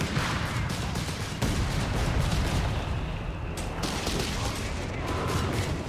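Artillery barrage in Company of Heroes 3 during a British advance: dense, continuous rumbling fire with overlapping distant blasts and crackling shots, heard steadily at moderate volume throughout.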